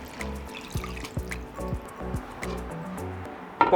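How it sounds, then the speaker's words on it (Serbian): Water is poured into a hot pan of pork and ginger, a short burst of gurgling, bubbling liquid with dripping and squishing sounds. "Nalit ću sa 400 ml vode."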